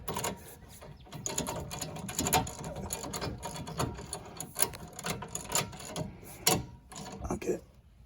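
A ratchet clicks in quick, irregular bursts while caliper bolts are snugged down by hand on a Dodge Ram brake job, the metallic ticking close and busy with brief pauses between strokes.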